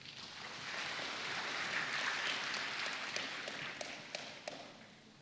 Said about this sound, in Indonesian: Tepuk kasih tepuk tangan.